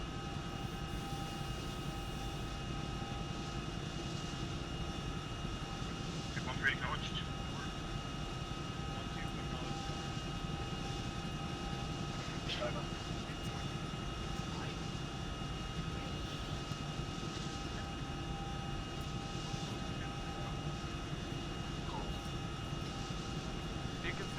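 Military helicopter flying toward a landing site in a video game, a steady low engine drone and rotor rumble throughout, constant in level with faint tonal whines and occasional radio-like blips, voices talking over it.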